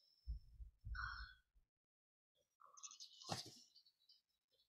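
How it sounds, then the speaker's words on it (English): Heartbeat sound effect in a video game, two deep close thumps in quick succession followed by a pause and some scattered, higher game noises. "Oh, I could hear heartbeats."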